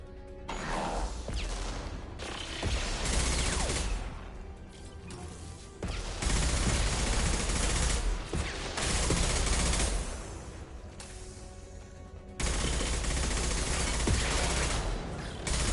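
A hacked turret in the Mass Effect video game fires in long, dense automatic bursts, loud and sustained, with brief pauses between volleys and mechanical clatter layered in.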